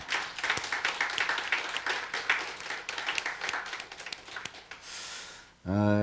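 A church congregation at a year-end watch-night service briefly applauds, with scattered claps under a pastor's ongoing speech before a loud tonal sound ends it.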